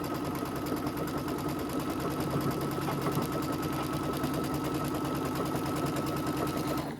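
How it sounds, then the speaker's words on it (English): A sewing machine stitching across pieces of quilt fabric for flying geese blocks, making a steady rapid mechanical whir and clatter close by that runs without a break. "I'm going to sew the other way across."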